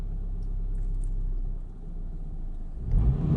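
A manual stick-shift car engine, driven by a beginner, hums steadily and then rises with a deeper surge near the end as the clutch is released and the car pulls away.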